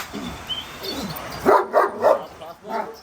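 Kangal dogs in a dog fight, giving a rapid series of four or five close, loud barks and yips, with growling and voices in the background.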